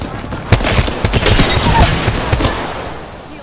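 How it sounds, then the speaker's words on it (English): Gunfire in the video game Apex Legends, a rapid, loud burst of shots and impacts packed into a few seconds of continuous firefight. "I am taking fire, friends."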